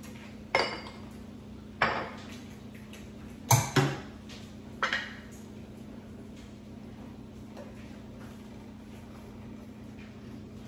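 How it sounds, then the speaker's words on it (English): A spoon stirs sloppy joe mixture, seasoned with pepper, in a pan, giving about five sharp clinks and scrapes against the metal in the first five seconds before going quiet under a low steady hum. "Stir that together."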